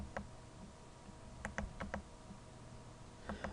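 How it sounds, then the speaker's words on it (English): Keyboard keys tapped to flip back through animation frames: a few sparse, quiet clicks in small clusters over a faint steady background hum. "I'm flipping back through the frames, again using the more than and less than symbols on your keyboard."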